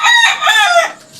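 A rooster crows once, loud and close, a harsh rising-and-falling call that fades out at the end.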